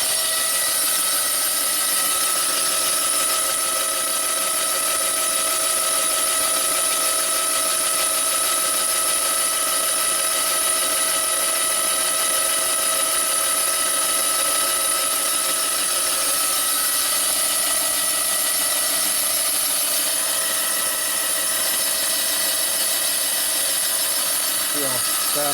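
A boring machine cutting a Harley-Davidson Twin Cam big-bore cylinder gives a continuous, loud, high-pitched metallic whine with steady tonal ringing that holds throughout without pause.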